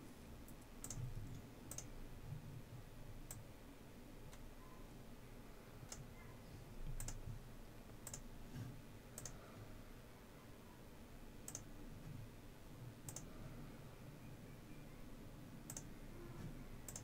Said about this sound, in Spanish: Sobre todo los clics del ratón.